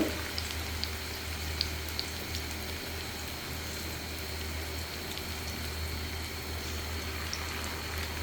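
Noodle pakoras fry in hot oil, giving a steady, dense crackle like light rain with occasional sharper pops, even and continuous throughout at moderate loudness.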